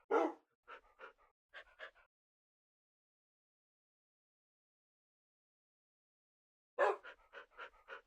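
Dogs in the Minecraft video game, two short bursts of game dog barks and panting yips, one at the start and another after a long silence, clean and isolated.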